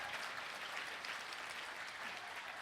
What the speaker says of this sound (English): she does deserve applause